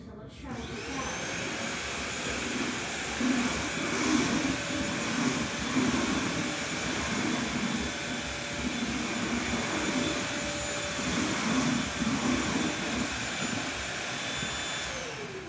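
A Bissell three-in-one vacuum cleaner roars steadily up close, its whine holding constant while the suction rumble surges as it picks up dirt.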